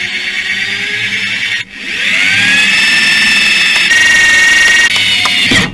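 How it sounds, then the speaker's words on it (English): Close, loud power drill whining steadily at high pitch while drilling out a broken bolt on a BMW E39 530i Touring, with a short pause before it spins up again and grinds on continuously. "So I'm going to attempt to drill this out."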